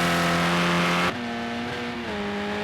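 Race car engine in Project Cars 2 on the Oulton Park circuit, a steady high-revving drone that drops pitch with a sharp gear change around a second in, then holds and shifts again, loud and close with no talk.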